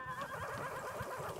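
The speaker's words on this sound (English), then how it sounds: "the horse noises are very disrupting" A horse in the video game Wanderstop whinnies loudly and up close, one sustained, wavering neigh lasting over a second with no talk over it.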